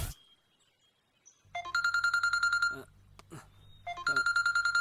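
A mobile phone rings for an incoming call with a bright repeating electronic ringtone melody, playing in two bursts with a brief pause between them, close and loud.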